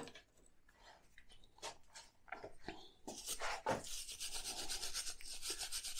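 Rusty metal being scraped and rubbed to remove a black deposit left by electrolysis rust removal, heard as close, rasping strokes that start as separate scrapes and then merge into steady continuous rubbing.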